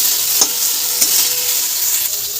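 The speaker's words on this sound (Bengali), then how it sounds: "এখন টমেটোটার সাথে এটা একটু নাড়াচাড়া করে নিয়ে দু মিনিট মতন" Tomato and other ingredients fry in a pan with a steady bright sizzle, while a spoon stirs and scrapes the pan a few times, each scrape standing out over the constant hiss.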